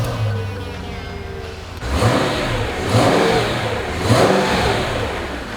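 A 2003 Mercedes-Benz SL500 V8 engine cranks and fires up, then revs three times in a steady rhythm, close and fairly loud over a rumbling idle.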